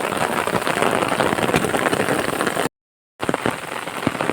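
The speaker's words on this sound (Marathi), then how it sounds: "आज पावसाने सुरुवात केलेली" Steady rain falls on a farm field in Maharashtra during sowing season, a dense, close, continuous patter with no voices, broken by one brief cut before resuming.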